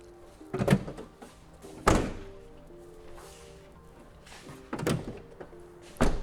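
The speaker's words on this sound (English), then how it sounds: "close your doors." Campervan doors shut with a few solid thunks spaced a second or more apart, close and fairly loud against a quiet background.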